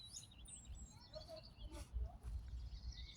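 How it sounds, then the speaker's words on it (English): Birds chirping on a morning in Prague, scattered faint tweets and short calls over a low background rumble. "You can hear the birds chirping."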